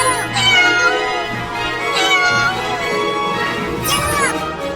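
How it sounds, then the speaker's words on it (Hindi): A cartoon kitten in a Hindi comedy meows and yowls loudly in three drawn-out, rising-and-falling cries, close and piercing, over a faint background bed. "अरे मुझे इस खतरनाक बिल्ली के पास छोड़कर क्यों भाग रहे हो?"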